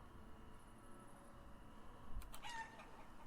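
Chickens in the medieval survival game Life Is Feudal cluck faintly among low, steady ambient game noise, with a short brighter call near the end.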